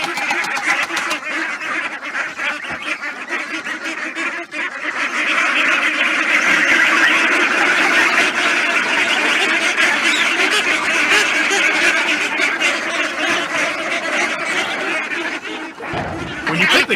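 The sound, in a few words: ducks and geese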